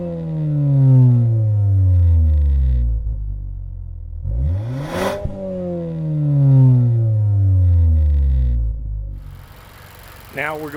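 Mazda 2.5 Turbo exhaust revved twice from idle, each rev rising to a loud roar and then sliding back down, captured close up on a Sony ECM-LV1 lavalier mic, with a sharp clack between the revs.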